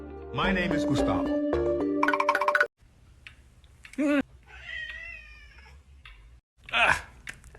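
A cat meows in several distinct, loud calls, some drawn out and wailing, mixed with background music and other clip sounds.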